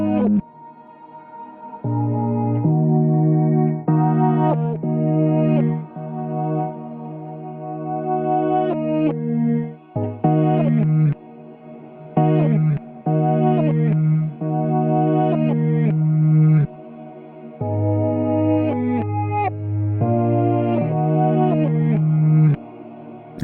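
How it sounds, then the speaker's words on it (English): A synthesized music loop plays with reverb and effects-processed textures, sustained tonal notes repeating in phrases with short gaps, loud and close. "So there's some interesting textures coming through there. I can hear some reverb and stuff going on."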